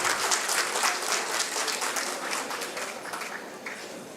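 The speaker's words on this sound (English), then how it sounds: "Can we have a big round of applause?" Sustained audience applause at an inauguration ceremony, a dense, steady wash of many hands clapping that fills the whole stretch at close, even loudness.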